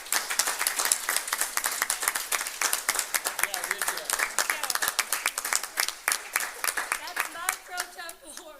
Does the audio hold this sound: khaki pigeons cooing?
no